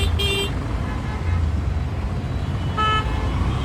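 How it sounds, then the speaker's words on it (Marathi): Cars sit in a traffic jam on a road, two short horn toots sounding a few seconds apart over a steady rumble of idling and moving vehicles nearby. "हे बघा ट्रॅफिक"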